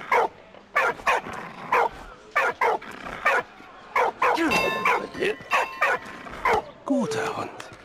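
A dog in the Valiant Hearts video game barks in a rapid series of sharp, close, loud woofs and higher yips at an uneven rhythm, with a voice heard briefly among the barks.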